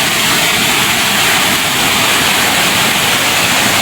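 A village waterfall roars close and loud, a dense, unbroken rush of falling water with no voices over it.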